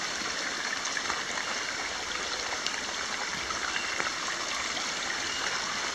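Flooded feeder creek pouring out near a manhole outlet, a steady broadband rush of flowing water that holds evenly throughout with no voices.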